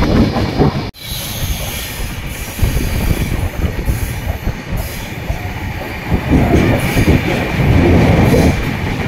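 A train runs on rails near Mumbai with a loud, close, continuous rumble of wagons and wheels, a brief dropout near the start, then steady clatter and faint squeal throughout. Nobody speaks.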